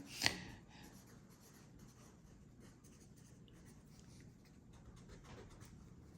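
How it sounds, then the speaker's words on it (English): A pen writes names down by hand on paper, a very faint, soft scratching that starts with one sharper stroke and continues quietly as light rubbing against a low background hush. "I'm going to write them down anyway"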